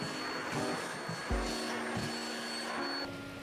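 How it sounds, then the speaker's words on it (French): A vacuum cleaner runs steadily in a small apartment, a close, continuous droning hum with a whine that shifts in pitch now and then as it is moved around. "Un petit coup d'aspirateur et je pense qu'on est bon."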